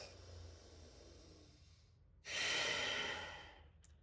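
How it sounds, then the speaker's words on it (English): A deep yoga breath: a soft, quiet exhale fades out, a short pause follows, then a loud, close, rushing inhale through the nose ends with a brief sniff. "Now take a deep breath and relax."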